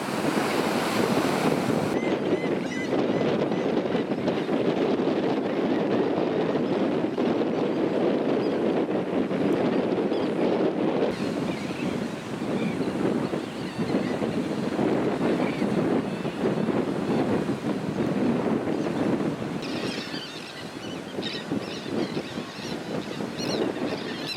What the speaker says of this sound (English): Now this is the north wind.